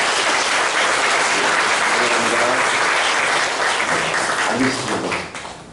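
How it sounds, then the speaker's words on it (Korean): Steady, dense applause from a church congregation welcoming a new member at a Sunday worship service, loud and sustained throughout before tapering off at the end. "환영의 박수를 부탁드리겠습니다."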